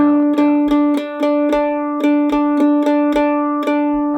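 A mandolin picks an Irish jig rhythm, with short, short, short, long, short strums repeating evenly, close and bright with no voices.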